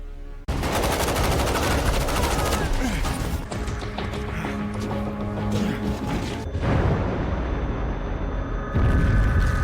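Dense, continuous gunfire crackles and booms without letup, like a battle in full swing, with heavy bursts layered over rumbling noise.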